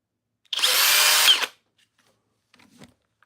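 Flex cordless power drill revving in one steady burst of about a second, loud and high-pitched with a whirring motor whine, then cutting off, followed by faint handling clicks.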